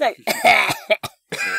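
A person coughs in a few harsh bursts mixed with an exclamation and laughing voice, close to the microphone.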